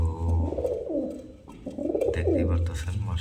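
Pakistani Giribaz pigeons coo in low, rolling phrases that repeat through the clip, close and steady, with other birds faintly in the background.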